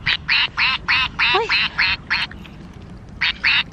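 A squeaky toy duck quacks in a quick series of about eight bright, evenly spaced squeaks, pauses, then squeaks twice more, loud and close over a quiet room, with a brief voice in between.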